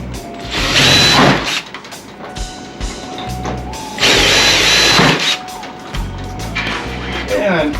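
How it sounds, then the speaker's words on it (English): Two bursts of a power drill whirring loudly, each about a second, drilling holes while building a kiln ventilation hood, separated by quieter mechanical sounds and handling noise. "So just drill a couple holes either side of the"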